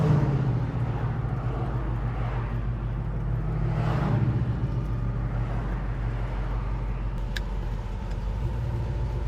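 A 1967 Plymouth Satellite convertible pulls into a parking lot, its engine rumbling low and steady, close up, with a slight swell partway through and no voices.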